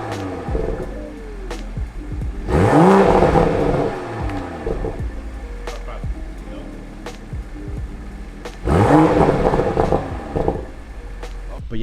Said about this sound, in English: If you guys want to hear like, you know, loud exhaust, that exhaust is definitely for you.